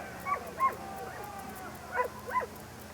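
Reveille, the Texas A&M collie mascot, gives two pairs of short yipping barks at a yell practice, sharp and fairly close over a quiet background hum.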